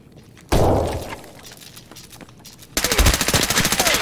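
Escape From Tarkov gunfire on the Factory map: one loud shot with a decaying echo, a quieter stretch, then a close, rapid burst of automatic fire running to the end.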